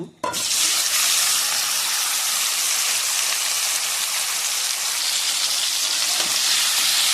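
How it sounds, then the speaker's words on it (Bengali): Pieces of meat hit hot oil already used for frying potatoes, setting off a sudden loud sizzle that holds as a steady, hissing crackle throughout. "তেলটা গরম হয়ে গেছে, দিয়ে দেবো মাংস।"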